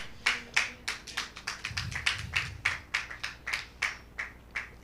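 Congregation in a church applauding in steady rhythmic claps, many sharp hand strikes repeating about every third of a second for several seconds, fairly close and moderately loud, with a faint low murmur underneath.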